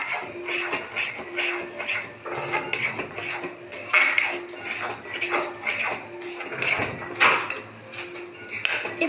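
Spoon stirring rava kesari in a pan, giving steady clinking and scraping against the metal in irregular close strokes with no talk.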